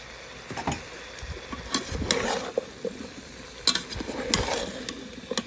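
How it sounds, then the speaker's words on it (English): Daikon root cooking with basic Indian spices, stirred in a pan with irregular scraping and clattering strokes over a low sizzle, close and moderately loud. "you just stir it up as real beginner"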